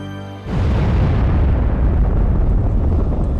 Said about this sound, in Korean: 1월 15일 심해 화산의 폭발이